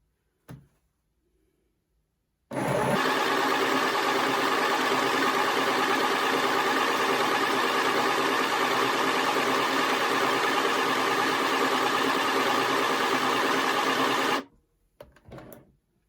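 A Midi sewing machine stitches a side seam in one continuous whirring run of about twelve seconds, loud and close, with brief clicks just before it starts and after it stops.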